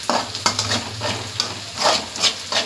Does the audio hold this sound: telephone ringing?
no